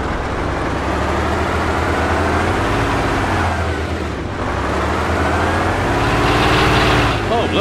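A vehicle engine in DayZ drones loudly and steadily, its pitch climbing and falling as it revs, with a voice speaking over it.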